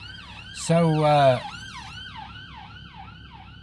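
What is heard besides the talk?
ambulance siren passing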